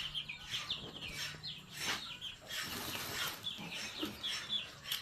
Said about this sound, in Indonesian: Itu ayamnya sudah menunggu ya untuk diberikan pakan